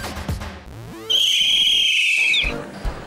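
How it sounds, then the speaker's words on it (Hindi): A shrill whistle is blown in one long, loud, steady blast lasting over a second, with voices heard briefly before it. "सीटी बजाना क्या सिर्फ लड़के ही जानते हैं?"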